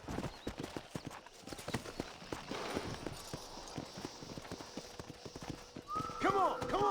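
Horse hooves gallop in a steady clip-clop rhythm in Red Dead Redemption, close and fairly loud, with a whinny-like tonal call near the end.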